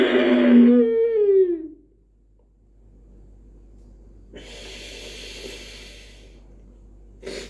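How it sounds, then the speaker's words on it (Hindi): Ujjayi pranayama nasal breathing during a yoga lesson: a drawn-out, throaty hiss of breath lasting a couple of seconds, preceded by a brief vocal sound and followed by a short sharp exhale. "नाक से सांस गई और आवाज के साथ"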